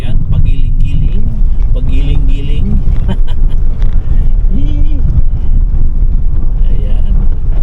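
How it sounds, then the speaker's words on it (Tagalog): A car descends a winding mountain road in Pangasinan, its steady engine rumble and road noise loud and close throughout, with wind buffeting and people talking over it. "Diba nag-spaghetti pababa ang ating sasakyan, pagiling-giling."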